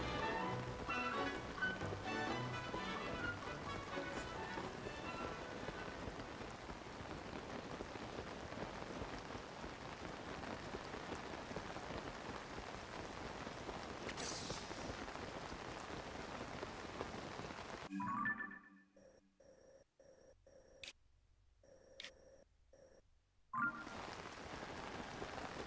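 Steady rain pattering on surfaces in Zelda: Tears of the Kingdom, a dense continuous hiss of drops that drops away near the end for a few seconds before returning, with no talk over it.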